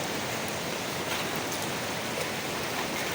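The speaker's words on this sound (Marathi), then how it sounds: "बेकार पूर आहे बेकार" Floodwater rushes loudly down a swollen stream, a steady, dense broadband roar that fills the whole stretch without pause or talk.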